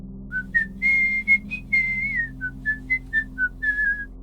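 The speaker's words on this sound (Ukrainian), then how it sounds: "Свистун щоночі насвистує ту саму мелодію." A person whistles a bright, bouncy melody of short and held notes, clear and close, over a low steady hum.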